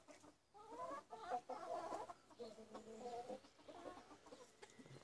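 Ringed roosters and a hen cluck in short, irregular bursts, close by and fairly quiet, with a few sharper calls among the soft clucking.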